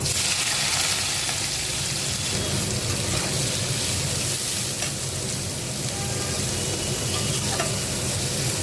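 Onions hiss and sizzle steadily in hot oil for chicken biryani, a dense, even frying noise close by that runs without a break, with no talking.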